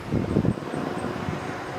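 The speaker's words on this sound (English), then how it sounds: "It's getting very windy here." Gusty wind buffets the microphone in low, rumbling bursts near the start, then settles into a steadier breezy rush.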